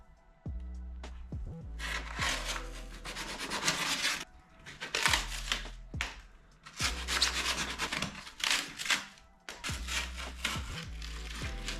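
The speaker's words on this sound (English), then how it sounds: "I'm just going to go around this foam now and trim it down to sort of the same shape as Sonny's GTI bumper" Foam is carved and trimmed by hand into the shape of a Volkswagen GTI bumper for a custom body kit. Loud, rhythmic rasping strokes come in repeated bursts, each followed by a brief pause, with a low hum between strokes.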